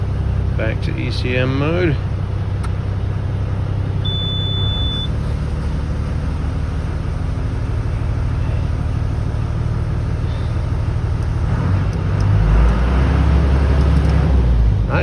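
A Cat 315 BL excavator with a failed electronic throttle runs at a steady diesel idle, then its engine revs up and settles back down near the end, with someone talking over it.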